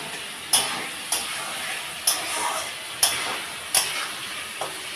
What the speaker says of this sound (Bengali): আলু দিয়ে চিংড়ি মাছ দিয়ে কষাচ্ছি।